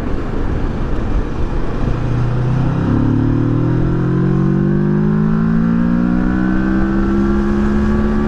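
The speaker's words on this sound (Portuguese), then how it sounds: "Aqui tem o escape original e vai continuar com o original." A 2018 Kawasaki Versys 650 ABS Tourer motorcycle with its original exhaust accelerates under steady wind rush. The engine's loud, rising drone climbs steadily in pitch through the gears.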